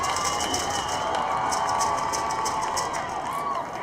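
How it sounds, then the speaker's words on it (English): A high school football crowd at a Rocky Mountain HS vs Columbine HS game roars in a steady, dense wash of cheering and noise that holds through the clip. "Crowd getting into it here"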